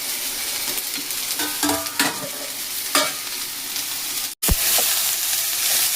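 Bay leaves and green peas sizzle in a hot pan of oil, a steady close frying hiss with a few stirring scrapes and clinks, broken by one brief silent gap before the sizzle resumes.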